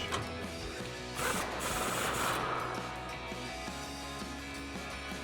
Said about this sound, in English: So we'll just use that 15mm socket.